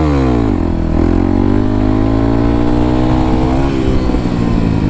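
A motorcycle engine revs hard and loud throughout while the rider chases a wheelie, the pitch climbing and holding high, close up with no talking.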